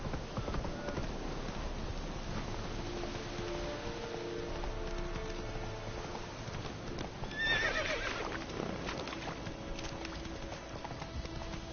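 Roach the horse in The Witcher, with steady hoofbeats under a continuous ambient bed and one loud whinny partway through.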